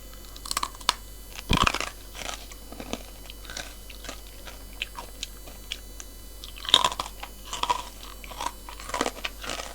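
Crispy baked vegetable chips, including long beans and beetroot, crunched and chewed close up in sharp bites followed by quieter chewing, with no talking.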